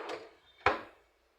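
Wooden drawer on a newly finished cabinet sliding with a brief rubbing scrape, then shutting with a sharp close knock that rings out and fades quickly.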